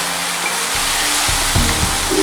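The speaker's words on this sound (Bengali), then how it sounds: "একটু ভালোভাবে মশলাটা কষিয়ে নিচ্ছি।" Turmeric, coriander and cumin powder fry in a pan with a loud, steady, close sizzling hiss, broken by a few soft stirring thumps.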